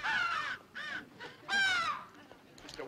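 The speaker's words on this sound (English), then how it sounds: "It's the crows." Several crows cawing in harsh, drawn-out calls, four or five loud bursts in quick succession close by, with a fainter call trailing at the end.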